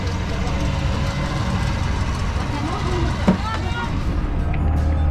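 A boat engine drones steadily on the Nile river, a continuous low mechanical hum running throughout while people talk over it.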